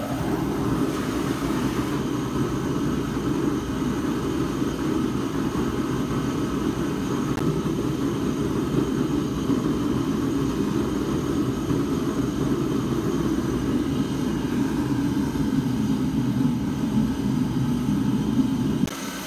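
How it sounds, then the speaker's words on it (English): A small gas forge for knife making burns with its fan running, a steady, even roaring rumble that holds at constant loudness with no talk. "I'm gonna light the small forge now"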